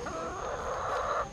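Chickens clucking close by, a steady murmur of overlapping hen calls with no pauses.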